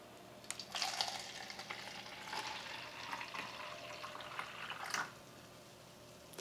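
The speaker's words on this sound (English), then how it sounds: "Let's go ahead and pour it out into a cup." Carbonated apple juice, fizzy from a soda maker, pours into a cup with a steady hissing, splashing fizz that swells near the start and cuts off around the five-second mark, close by with no talking.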